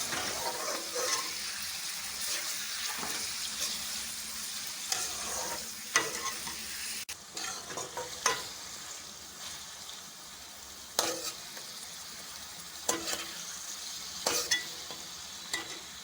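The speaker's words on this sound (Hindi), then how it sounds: "अब चिकन को 10 मिनट के लिए अच्छी तरह से भून लेंगे।" Chicken pieces frying in a pan for a chicken fajita spaghetti dish, a steady close sizzle broken by repeated scraping stirs of a spoon, with no talking.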